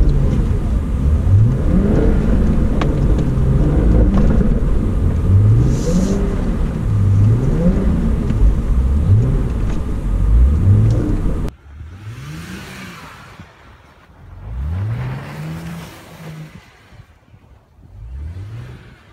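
A BMW all-wheel-drive car spins donuts in snow, its engine revving in repeated rising and falling surges, loud and close. The revving then drops away and returns in a few quieter bursts.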